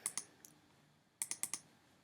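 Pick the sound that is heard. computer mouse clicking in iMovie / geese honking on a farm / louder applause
computer mouse clicking in iMovie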